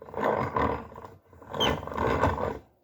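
Two bursts of rough metallic grinding and whirring from a yarn ball winder's metal gears, each about a second long with a short pause between, loud and close.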